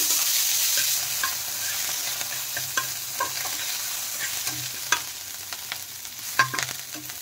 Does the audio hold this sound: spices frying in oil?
yes